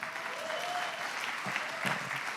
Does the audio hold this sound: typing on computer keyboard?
no